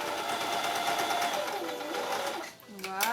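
A sewing machine stitches ribbon onto a bamboo towel, its fast mechanical whirr held close and steady before slowing near the end, with someone speaking softly over it.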